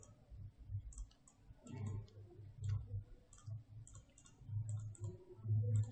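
Mouse clicks while retouching with the Photoshop healing brush tool, a scattering of light, close clicks under a low background hum, coming in small irregular bursts.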